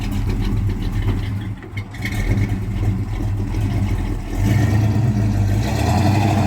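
A 1984 Chevy C10 pickup with a four-speed manual is driven, its engine rumbling steadily from inside the cab, dipping briefly during shifts before rising again.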